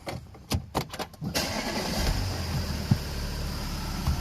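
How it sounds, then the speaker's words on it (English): A few quick cranking bursts of a starter, then a 2011 Audi A5 diesel engine catches and settles into a steady rumbling idle nearby. "Start the car up."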